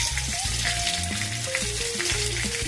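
Curry leaves drop into hot coconut oil with popped mustard seeds and dried chilli, crackling in a steady sizzle beneath background music.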